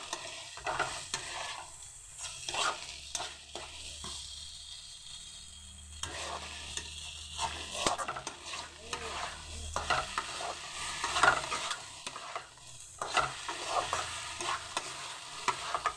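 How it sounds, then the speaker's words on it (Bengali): Khichuri rice fried with spices is stirred in a pan, with repeated close scraping and clinking strokes over a soft sizzle, irregular in rhythm and without any talking. "এভাবে ভালোভাবে মশলাটার সাথে মিশিয়ে একটু ভেজে নেব।"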